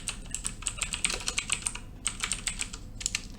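Quick bursts of keystrokes on a computer keyboard while entering a Cisco switch command, close and crisp with a short pause midway before the clicking resumes.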